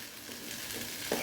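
Food fries in a pan while being stirred around, a soft continuous sizzle with faint scraping, quiet and close, with no voices.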